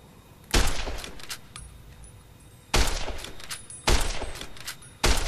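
Loud varmint rifle gunfire in the video game Fallout: New Vegas, four sharp shots spaced irregularly, each with a short ringing tail and quiet game ambience between them.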